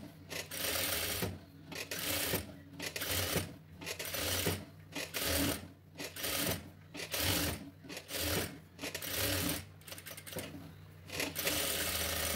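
A sewing machine stitches blouse lining with a long stitch length, running in rhythmic bursts of rapid mechanical chatter separated by short pauses, close and steady.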